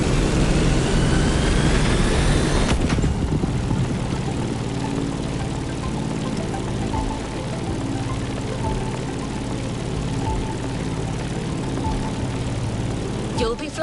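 Piston engine of a Grumman F8F Bearcat propeller fighter in a video game, a steady loud droning hum with harmonic tones running throughout, with a brief higher whine at the start, and a voice talking over it.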